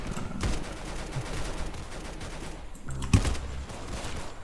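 Gunfire from a weapon in the Roblox game Arsenal, a few sharp shots and short bursts at moderate volume, with a louder cluster near the end over steady in-game background noise.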